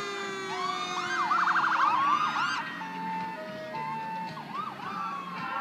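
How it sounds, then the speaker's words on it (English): Several emergency sirens from ambulances, fire trucks and police cars in a parade wail and yelp together, overlapping in rising and falling sweeps, loud and close at first, then steadier tones continuing. "There's all ambulances and fire trucks and cops and everything."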